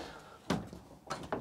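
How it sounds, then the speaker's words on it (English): A shower door in a 2023 Jayco Eagle 321RSTS RV shuts with a soft thud, followed by two quick, light clicks of the latch, all close and fairly quiet. "shower door is closed and latched"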